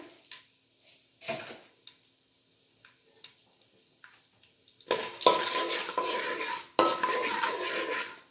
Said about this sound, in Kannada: ಸ್ವಲ್ಪ ಬಣ್ಣ ಚೇಂಜ್ ಆಗೋ ತನಕ ಹಾಗೆ ಎಣ್ಣೆಯಲ್ಲಿ ಫ್ರೈ ಆಗಲಿ